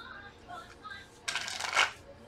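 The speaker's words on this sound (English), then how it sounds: "you're going to shuffle like you normally shuffle" A tarot deck being shuffled, a brief, close riffle of cards that swells and fades after some soft talk.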